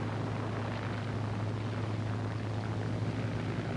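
P-51 Mustang propeller plane roaring on takeoff at full power, a constant loud broadband engine and propeller drone with a steady low hum and no break.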